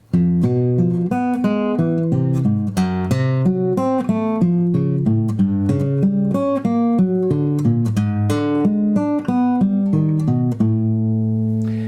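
A guitar fingerpicking exercise climbs up the fretboard, plucked notes ringing in a steady, even rolling pattern, close and clear, played alone without talk.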